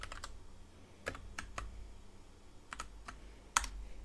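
A computer keyboard is typed on in a quiet room, with sparse, crisp key clicks in short irregular bursts and one louder final keystroke.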